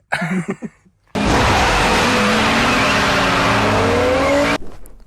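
An old Premier Padmini car with non-power steering drives off, its engine and road noise rising abruptly into a loud, steady roar that holds for a few seconds before cutting back, after brief indistinct voices at the start.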